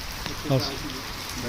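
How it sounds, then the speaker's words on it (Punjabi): Steady rain falls in a Punjabi village, a soft, even hiss that continues throughout, with a brief voice heard faintly near the middle. "ਲੈ ਬਈ ਮੀਂਹ ਤਾਂ ਚੱਲ ਰਿਹਾ ਆ"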